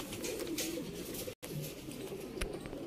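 Teddy pigeons on a rooftop coo in low murmuring phrases, quiet and steady, over faint background noise with a brief dropout partway through.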